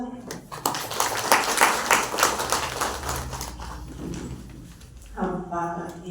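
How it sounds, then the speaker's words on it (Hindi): An audience at a 2024 Shiv Jayanti celebration claps for roughly three seconds, a rhythmic patter that fades out, and then a voice speaks. "तो अपने लिए ताली तो बजाओ।"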